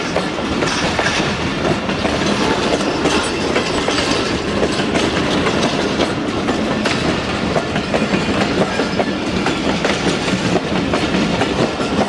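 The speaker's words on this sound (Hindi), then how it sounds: "आराम आराम से जा रही है ट्रेन कराची कैंट की तरफ" An express train of mixed coaches rolls steadily past Chanesar Halt toward Karachi Cantt, a loud, continuous rumble with rhythmic clickety-clack of wheels on the rails and no voices.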